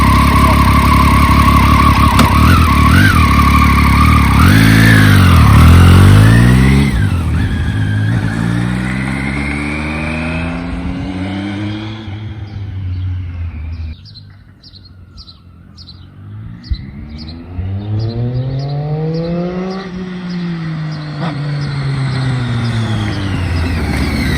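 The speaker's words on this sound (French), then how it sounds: "Oh, ouais, ça freine. Pas mal cette bécane." Motorcycle on a test ride after a service, engine loud and close as it revs and then brakes, pitch falling as it slows, dropping to a quiet idle and rising again as it pulls away.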